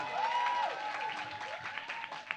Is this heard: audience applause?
yes